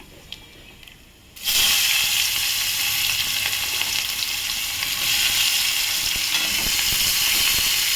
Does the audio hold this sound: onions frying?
yes